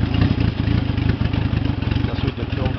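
A Honda CR750 motorcycle engine chugs and idles with the choke on, close and loud, its rough uneven pulsing carrying a mechanical clatter throughout.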